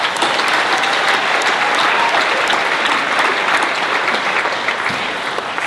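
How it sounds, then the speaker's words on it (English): Loud, sustained audience applause fills the room at a startup accelerator pitch night, a steady dense wash of clapping throughout. "Let's give them another round of applause."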